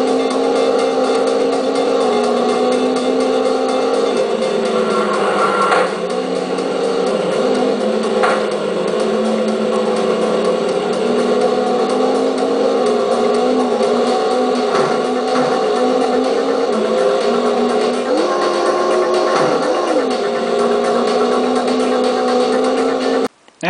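Racing car engine from the Nintendo 64 rally game Top Gear Rally, a steady, loud buzzing drone with slight pitch rises and dips as the car accelerates, continuous for the whole stretch.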